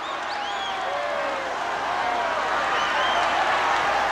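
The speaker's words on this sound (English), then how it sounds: "The crowd on his feet, sensing that Ali's desperation." An arena crowd roars steadily at the Muhammad Ali vs Ken Norton boxing fight, a dense, sustained cheer with scattered shouts and whistles.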